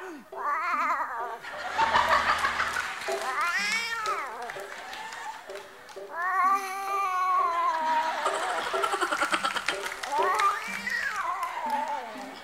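Drawn-out cat meows and caterwauling yowls rise and fall in long wavering cries, loud and close, with crowd laughter and applause from a live television variety-show audience underneath.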